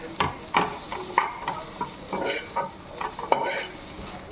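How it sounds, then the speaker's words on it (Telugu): Onions fry in a pan with salt, chili powder and garam masala over a low flame for egg bhurji. Close, repeated stirring scrapes and clatters ride over a continuous sizzle. "ఆనియన్స్కి సాల్ట్, కారము అన్నీ పట్టుకోవాలి కదా, కొంచెం సిమ్లో పెట్టి వేగనివ్వాలి."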